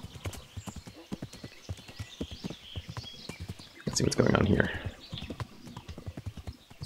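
Horse hooves clip-clop steadily in the medieval RPG Kingdom Come: Deliverance, a rhythmic run of near hoofbeats with a louder burst midway, heard under someone talking throughout.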